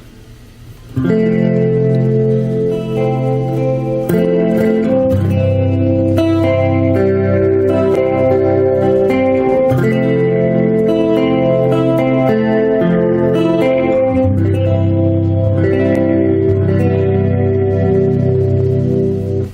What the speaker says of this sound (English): patch 11, nice chorus patch on the SDE 2500